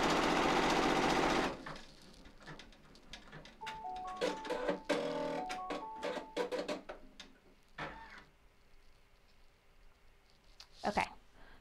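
A machine embroidery unit stitching an in-the-hoop tooth fairy design, giving a fast, steady mechanical chatter of needle clicks with faint pitched motor tones, close and moderately loud after a brief noisy start, fading near the end.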